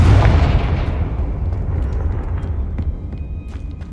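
A Confringo fire spell explodes in Hogwarts Legacy, one loud close blast with a deep rumbling roar that dies away slowly over several seconds.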